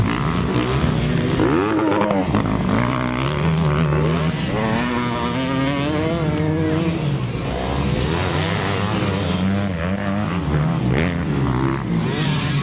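Motocross motorcycles race past in a loud, continuous engine roar, with high-revving, rising and falling whines layered together throughout.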